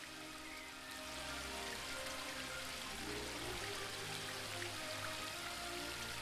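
Waterfall in a woodland realm in the adventure game The Book of Unwritten Tales 2, a steady, dense rushing of water that holds at an even level throughout, with no voices.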